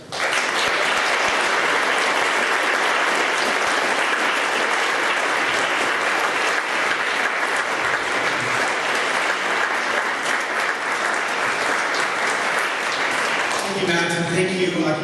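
An audience claps loudly and steadily in sustained applause as Professor Lawrence Lessig is welcomed to keynote an Occupy DC conference, fading toward the end.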